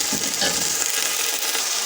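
Green peas sizzle steadily in hot oil with garlic, ginger and masala, a close, continuous frying crackle with light stirring and no voices.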